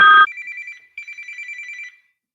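An electronic phone ring trills close by in two bursts, the first brief and the second longer, then stops.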